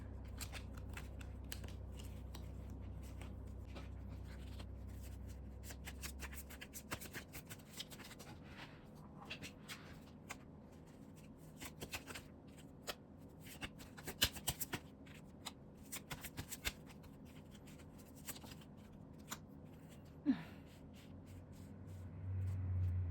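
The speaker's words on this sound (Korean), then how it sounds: "카드를 조금 더 뽑아볼게요." Tarot cards are shuffled and drawn by hand in a quiet room, giving soft rustling, sliding and snapping of card stock with a few sharper flicks, close and fairly faint throughout.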